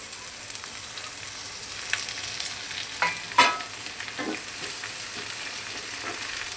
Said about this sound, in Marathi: जिरं मोहरी टाकायची आणि नंतर हा कांदा टाकायचा।